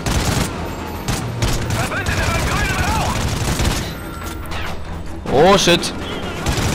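Rapid gunfire bursts from the Call of Duty Ghosts video game crackle loudly and continuously, with a brief exclamation from a player over the shooting and electronic whine effects near the end.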